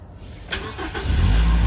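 A Wuling Cortez car engine cranks briefly and catches, then settles into a steady, rising low rumble of idling close by, with no talking.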